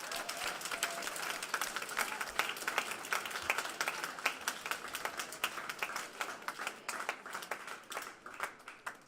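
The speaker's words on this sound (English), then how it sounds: "I think everyone in this room deserves a round of applause" Sustained applause from a school assembly audience at an anti-hate event, many hands clapping densely and steadily for several seconds at moderate, somewhat distant volume, with no talk over it.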